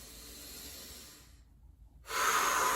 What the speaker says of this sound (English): Keep breathing nice and deep.